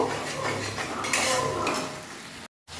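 Red chili powder, salt and a little sugar are stirred and sautéed in a pan with a spatula, giving close scraping and clinking over a soft sizzle before a sudden brief silence near the end.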